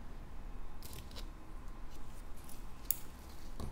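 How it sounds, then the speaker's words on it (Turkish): Scissors snip through crochet yarn in a few quiet, sharp clicks, the loudest cut arriving near the end against a faint room hiss. "İpi keseceğim."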